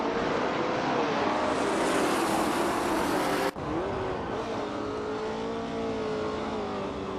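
A 1970 Ford Mustang Boss races in a video game, its engine holding a loud, steady high-pitched drone that breaks briefly near the middle before resuming at a slightly lower, even pitch.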